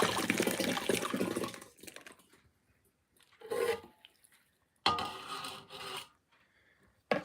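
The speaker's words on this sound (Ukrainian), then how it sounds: "Тепер беремо все наше сусло, яке утворилося, і наливаємо вугілля." Liquid wort poured over charcoal, with bursts of rushing, rasping pouring that stop and start several times between quiet pauses.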